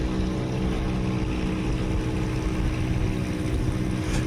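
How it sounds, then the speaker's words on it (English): Aircraft engine straining in the Aces of Thunder flight game, a loud continuous droning roar with a steady rough rumble and no letup, heard alone without talk. "I can hear that engine straining there"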